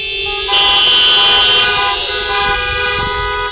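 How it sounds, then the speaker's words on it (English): Car horns honk loudly and steadily at a community action rally, a long sustained blare with layered tones from several vehicles sounding together. "You may honk now."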